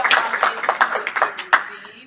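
An audience at a Hebrew conference workshop claps in a short, uneven burst of hand claps, fairly close and loud, fading out after about two seconds.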